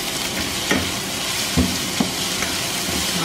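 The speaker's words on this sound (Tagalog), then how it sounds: "I-stir fry po natin natin yun" Hard Baguio green beans being stir-fried in a pan for pancit canton, a steady sizzle with several sharp scraping stirs of a utensil against the pan.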